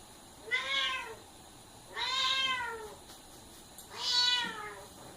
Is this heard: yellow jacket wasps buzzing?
no